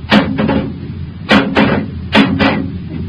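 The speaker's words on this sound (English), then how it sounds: "Take this bar and knock it loose, Happy." Radio drama sound effect of a metal bar striking a giant metal-eating worm clinging to a spaceship wall: three loud, sharp clanking blows spaced about a second apart, each followed by a quick softer rebound hit.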